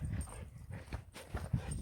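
A hyper dog moves about close by, with faint snuffling, whimpery noises and soft thumping footfalls in a quiet outdoor setting, no speech.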